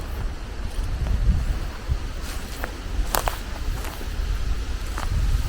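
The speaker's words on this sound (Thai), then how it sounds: "ลมกระแรงนะวันเนี้ย" Strong wind blows steadily outdoors on a flat, open road in Denmark, a continuous gusty roar buffeting the microphone with faint scattered rustles and knocks over it.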